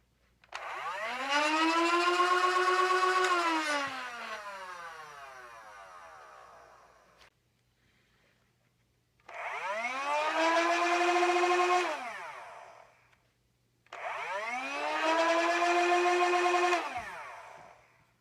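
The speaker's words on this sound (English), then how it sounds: "Here are a couple clips of how the Nerf Stryfe sounds before and after modification." Nerf Stryfe blaster flywheel motors, before and after a braking mod, spin up in three separate whirring bursts, each a rising whine that holds steady then cuts off into quiet gaps.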